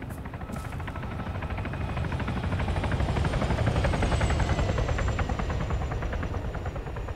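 Helicopter flying in the video game ArmA 3, its steady rotor chop pulsing throughout, loud and close, holding a continuous rumbling drone that swells slightly toward the middle.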